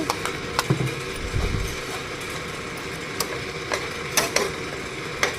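Ground bottle gourd frying in a pan, a soft continuous sizzle with occasional stirring scrapes and clicks of a spoon against the pan, fairly close and steady.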